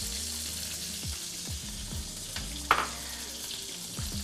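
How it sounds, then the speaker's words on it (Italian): Butter melting in a pan to dress Friulian cjarsons, sizzling and frying steadily throughout, with a soft clink of a utensil partway through and no talk. "dobbiamo far sciogliere il burro per condirli"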